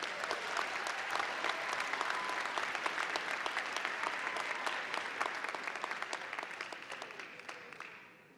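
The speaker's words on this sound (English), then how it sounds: "Let's have a round of applause for these graduates." Sustained applause from a large audience at a fall university commencement, dense steady clapping for graduates that holds loud throughout, then begins to thin and fade near the end.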